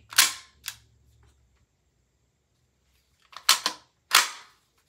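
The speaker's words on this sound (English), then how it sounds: "Put on full automatic. It'll still let you fire." Crosman R1 CO2 BB rifle firing on full automatic, with a sharp shot early, a second lighter pop, then after a pause a quick cluster of two or three shots and one final crack, close and loud.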